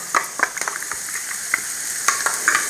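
Onions softening in a pan for egg bhurji give a steady high sizzle with scattered clicks and scrapes of a spoon stirring, close and moderately loud, with no talk.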